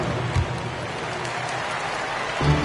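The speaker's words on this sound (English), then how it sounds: "Let's give them a big round of applause." A large arena crowd in the NBA 2K22 basketball video game applauds and cheers steadily in a dense, continuous wash of noise, swelling slightly louder at the end.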